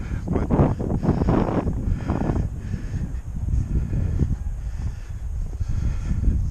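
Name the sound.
wind on microphone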